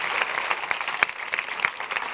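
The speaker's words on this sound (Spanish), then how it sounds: "¡El aplauso para Ángel, oye!" A studio audience on a Spanish TV talk show applauds a contestant, loud, continuous crowd clapping with crisp individual claps standing out from the steady wash.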